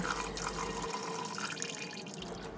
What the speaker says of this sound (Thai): พอรุ่งเช้าเทน้ำที่แช่ถั่วออกทิ้ง แล้วล้างเอากลิ่นสาบของถั่วออกให้หมดให้เกลี้ยง